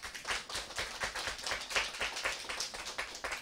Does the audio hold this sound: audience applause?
yes